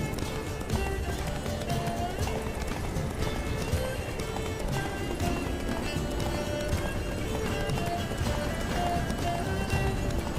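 Rapid rhythmic hoofbeats of Geralt's galloping horse in a Witcher video game run steadily throughout, mixed with busy game music and effects.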